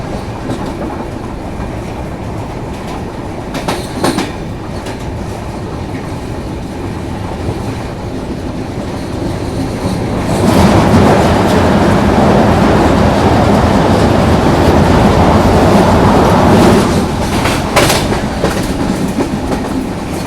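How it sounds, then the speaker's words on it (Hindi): The Mandovi Express, on the Madgaon to Mumbai CSMT route, rolls into Thivim railway station with a close, steady rumble and clickety-clack of wheels that swells louder midway, with no talk. "अभी अपने यहाँ पे मांडवी एक्सप्रेस का अराइवल थिविम रेलवे स्टेशन पर हो रहा है।"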